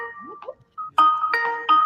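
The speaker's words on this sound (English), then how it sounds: "He's getting secret phone calls." A phone rings for an incoming call, a bright repeating electronic melody that starts in short blips and then swells into sustained, fairly loud tones, with no talking over it.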